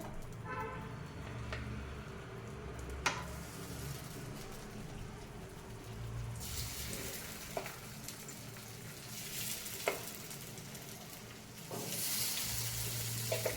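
Beaten egg is poured into hot oil in a nonstick pan and sizzles steadily throughout, with a few soft clinks and the hiss swelling louder near the end.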